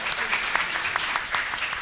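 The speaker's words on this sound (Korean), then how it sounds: "큰 박수 부탁드립니다." An audience at a Korean local-autonomy seminar gives a short burst of dense, steady clapping from many hands, filling the room for a couple of seconds.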